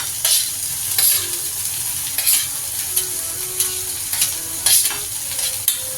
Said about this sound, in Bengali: ক্যাপসিকাম দিলাম, দিয়ে এগুলো আমি একটু কষিয়ে নেব।